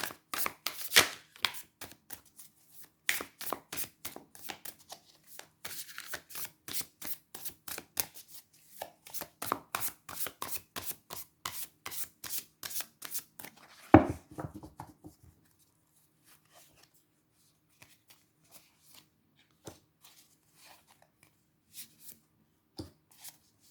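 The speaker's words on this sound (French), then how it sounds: "on va déjà tirer 3 cartes pour voir ce que le tarot a à vous dire" A tarot deck is shuffled in quick, dense bursts of riffling card clicks, with one sharp louder snap near the end of the run. Afterward only sparse soft taps follow as cards are drawn and laid down, with no voices.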